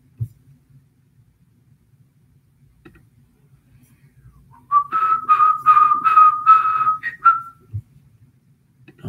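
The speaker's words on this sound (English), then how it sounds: "I almost started whistling the Marine Corps theme song." A melodic whistled tune, clear and fairly close, with several bright rising-and-falling notes in a short phrase after a quiet start.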